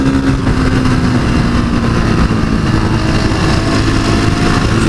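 A Honda CRF450SM supermoto runs steadily near the listener, a constant loud engine drone with a low harmonic hum and no breaks.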